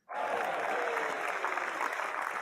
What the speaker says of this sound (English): Here we have some applause for you.